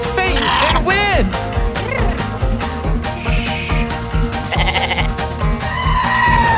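A cartoonish goat bleat in a game advertisement for Fainting Goats, wavering cries over bouncy background music, with a voice speaking between the sounds.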